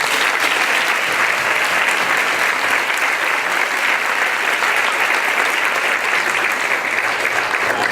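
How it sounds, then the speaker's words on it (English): An audience at a panel discussion on equity gives a sustained, dense round of applause, loud and even throughout with no voices over it. "Let's give these guys a round of applause"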